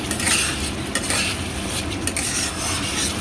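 Spice paste of fennel, cumin, dried chili and ginger sautéed in oil for tel koi fish curry, a spoon scraping and stirring around the pan over a continuous sizzle, with occasional sharp clinks of utensil on metal.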